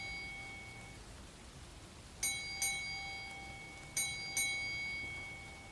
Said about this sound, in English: You ring the bells.